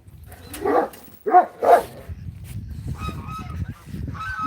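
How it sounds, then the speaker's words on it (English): A farm goose lets out a few loud, close honks in a quick burst, followed by quieter rustling and background animal noise near a pond. "And there's Crow, that noisy goose that always has to talk."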